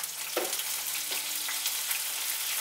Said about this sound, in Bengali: এখন এর মধ্যে পেঁয়াজ পেস্টটা দিলাম